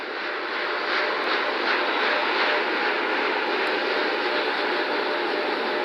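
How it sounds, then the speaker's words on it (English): Steady, loud roar of four RS-25 rocket engines on the Artemis I core stage during a gimbal steering test, a broad continuous rushing rumble that holds without a break. "RS-25 engines gimbaling around, testing the ability to steer the rocket into space"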